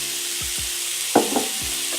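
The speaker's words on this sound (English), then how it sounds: "Good sizzle going on there." Steady hissing sizzle of spicy Korean pork frying in a hot pan, with a few brief scraping knocks as it is stirred.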